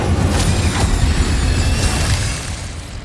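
A fiery Incendio spell cast in the Hogwarts Legacy video game, giving a loud, dense roaring burst that holds steady for about three seconds, with faint pops and crackle on top.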